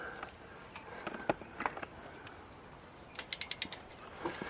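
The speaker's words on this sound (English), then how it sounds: "He's back on the other side with the 1/2 inch deep dish socket" A ratchet with a 1/2 inch deep dish socket works a head pipe flange nut on a Harley-Davidson Road Glide Special during a Bassani exhaust install, giving brief scattered clicks and then a quick run of sharp ratcheting clicks near the end.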